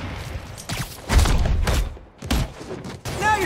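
Bursts of gunfire ring out during combat in the video game Marvel's Spider-Man Remastered, with thuds and shots mixed among game effects and character voices.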